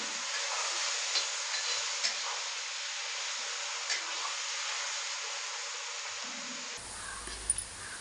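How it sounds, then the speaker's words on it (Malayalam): Onions sautéing in oil in a pan until brown for a chicken curry give a steady, soft, even hiss of frying, continuous and close, with a brief change in the sound near the end. "സവാള നന്നായിട്ട് വഴന്ന് കിട്ടണം എന്നുവെച്ചാൽ ഒരു ബ്രൗൺ കളറാകുന്നത് വരെ നമുക്ക് എണ്ണയിൽ വഴറ്റിയെടുക്കാം"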